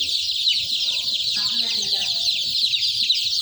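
Chickens clucking softly in a farmyard, low scattered clucks under a dense, constant high-pitched insect-like buzz, with a voice speaking faintly.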